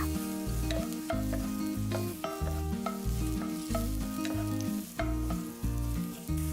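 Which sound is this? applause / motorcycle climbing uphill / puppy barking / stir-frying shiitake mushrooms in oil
stir-frying shiitake mushrooms in oil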